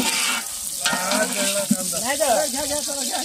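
Onion burning as it fries in a pan over a high gas flame at a New Year party, a loud, steady sizzle throughout with faint voices and tonal sounds rising beneath it.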